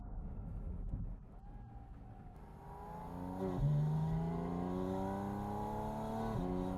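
A loud Porsche engine revs and accelerates outdoors, a low rumble building into a rising, roaring whine that drops and climbs again between gear changes, close and strong over wind noise.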